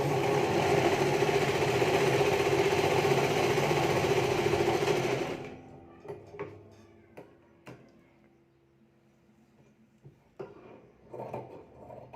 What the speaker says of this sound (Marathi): मेन फॅब्रिकवर आपल्याला टीप टाकत घ्यायची आहे